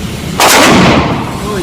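A shotgun with a Blackhawk Knoxx SpecOps Gen II recoil-reducing stock fires a single loud, close blast that rings out briefly outdoors.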